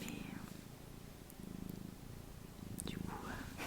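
A cat purrs close to the microphone in a quiet indoor room, a soft low rumble pulsing steadily in rhythmic bursts, with faint whispered talk over it.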